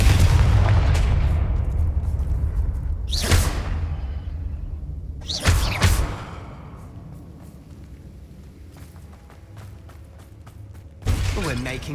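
Confringo spell blasts go off in Hogwarts Legacy combat, with three sharp booming bursts and whooshes spaced several seconds apart over a low rumbling game soundscape.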